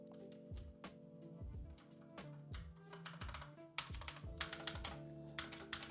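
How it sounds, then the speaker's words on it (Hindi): Rapid clattering keystrokes on a budget dust-proof mechanical keyboard, close and clear, with uneven bursts of clicks and thocks continuing steadily throughout with no talking. "तो ये मेरा पहला मैकेनिकल कीबोर्ड है।"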